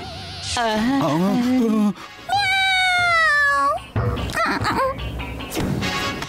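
A cartoon cat from Motu Patlu meows loudly in a string of long, wavering, pitch-bending cries, with a short pause between them and some crashing noise near the end.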